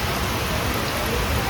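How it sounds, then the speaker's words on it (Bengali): Heavy rain pours down on a street, a dense, unbroken hiss that stays loud and even through the short stretch. "এই বৃষ্টিতে সত্যি কোনো মানুষ বেরায় না রাস্তা দিয়ে"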